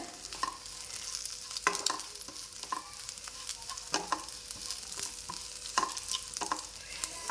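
Bitter gourd theeyal curry with roasted coconut and curry leaves stirred in a pan, a soft steady sizzle under repeated spoon scrapes and taps at an irregular rhythm, close and quiet.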